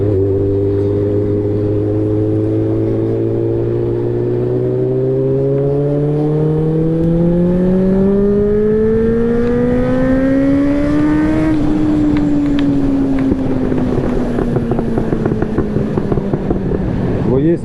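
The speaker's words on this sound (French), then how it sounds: "Le 4 cylindres, et ben, il est doux, il est souple, il est linéaire." Suzuki 600 Bandit four-cylinder motorcycle engine revving up through the gears while riding, a smooth rising whine that climbs steadily and then drops back at a shift, loud and close with wind rush.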